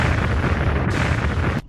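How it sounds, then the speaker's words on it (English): A continuous loud, dense roaring rumble like an explosive volcanic eruption, steady and close, cutting off sharply at the end. "So when those gases get hot enough, they expand and explode."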